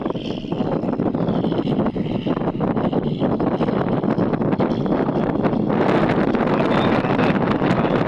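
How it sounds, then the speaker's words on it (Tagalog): Strong wind buffets the microphone with a continuous loud, gusty roar and rustling, steady throughout with no voices. "So pinagbigyan po tayo ngayon na nagkaroon ng lumakas yung hangin."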